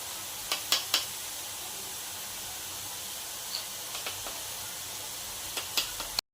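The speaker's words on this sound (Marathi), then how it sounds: "हलवून घेऊया मीठ टाकल्यावर" Salted fenugreek (methi) leaf bhaji cooking uncovered in a pan over a high flame: a steady soft hiss runs throughout, broken by a few light clicks and scrapes of stirring.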